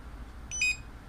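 A handheld scanner gives a short, high electronic beep while reading a parcel shipment label, a single brief tone over quiet room noise.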